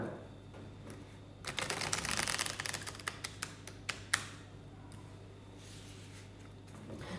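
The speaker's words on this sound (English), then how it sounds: "let's just shuffle once more" A deck of illustrated pip tarot-style cards shuffled by hand, a close dense riffle of flicking card edges building over a couple of seconds and ending in a few sharp snaps, then quiet handling.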